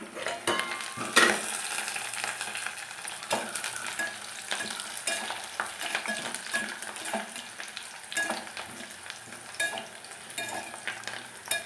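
Onions frying until reddish in a pan for pulao, giving a soft steady sizzle throughout with occasional light clinks and stirring scrapes, close by and with no talking.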